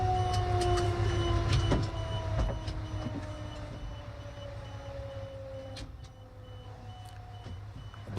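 A fire truck pulls up on a residential street, its reversing alarm beeping in a steady repeated rhythm over a low diesel rumble, moderately close with no talking.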